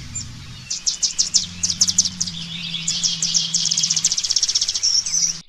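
Dark-backed weaver calls from African forest: a busy string of bright chirps and buzzy trills, close and fairly loud, with a faint low hum underneath.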